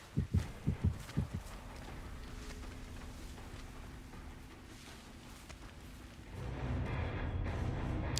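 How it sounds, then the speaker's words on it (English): Heartbeat effect from the video game The Expanse, a few quick low thumps at the start that fade into a steady hum of game ambience, with a louder rumbling wash near the end. "Heard that heartbeat for a second, and that caught me off guard a little bit."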